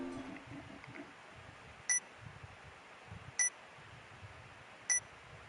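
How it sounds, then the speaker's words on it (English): Electronic beeping in the video game 428: Shibuya Scramble, three short high-pitched beeps at even intervals of about a second and a half, clear over faint background murmur. "A strange beeping sound broke Minorikawa out of his writing reverie."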